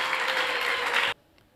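A church congregation applauds in a dense, steady burst of clapping that lasts about a second, then stops abruptly, leaving near silence.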